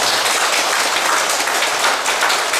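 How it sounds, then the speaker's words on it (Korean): Buddhist worshippers at a Wednesday dharma service applaud to welcome a monk, a steady, loud wash of clapping throughout with no talk. "불자 여러분께서는 큰 박수로 스님을 환영해 주십니다"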